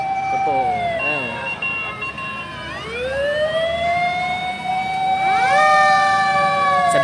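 Fire truck sirens wail at a large blaze on Visayas Avenue, Quezon City, several overlapping tones rising and falling loudly and continuously over traffic and crowd noise, with people talking nearby.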